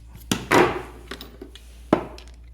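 A 3/8-inch socket snaps onto a Hyper Tough gold ratchet with a few sharp, close metallic clicks and a brief rattle, quiet in between and without speech.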